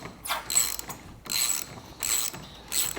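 A ratchet wrench loosens the bolt on a shock absorber of a Corsa C van, clicking in four quick bursts of close metallic ratcheting separated by short pauses.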